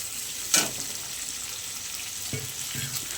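Chicken fries lightly in a pan with ginger and garlic, giving a faint, even sizzle, with one brief clatter near the start and a couple of soft knocks later.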